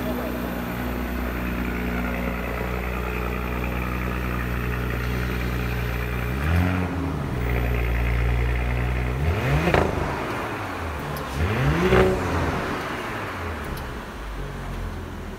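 An Audi SQ5 S model idles with a deep, steady engine hum, then gives three sharp blips of revving that rise and fall back to idle. Light talk runs beneath the engine noise.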